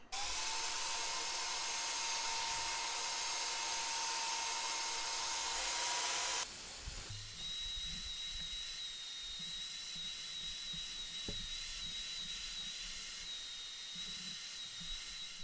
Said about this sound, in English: I'm going to use the bristle function to agitate the dirt even more and then extract it through the nozzle.